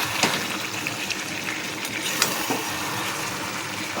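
Water poured into a pot of cooking chicken curry, a steady close rush of liquid with a faint bubbling hiss and a couple of small clinks, continuous throughout.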